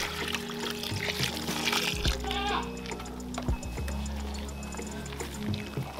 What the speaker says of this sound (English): So whilst you are doing it, you'll be adding in water.